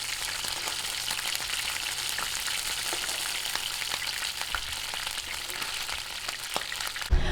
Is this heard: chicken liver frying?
yes